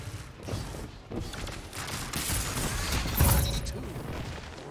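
Gunfire and explosive blasts from a rocket launcher in Destiny 2 multiplayer combat, a dense run of bursts and booms building toward a loud peak near the end, with speech-like game chatter underneath.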